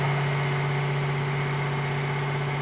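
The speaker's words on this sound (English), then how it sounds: "then the combustion engine will start." A Mercedes-AMG combustion engine starting and running steadily at idle, a constant low hum with a throbbing rumble, close and fairly loud throughout.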